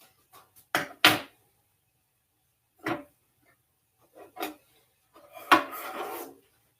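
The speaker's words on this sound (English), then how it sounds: "Let's cut this open and see what it looks like." Cutlery scrapes and knocks against a plate while a smothered breakfast burrito is cut open, a few separate clinks and scrapes with quiet gaps between them.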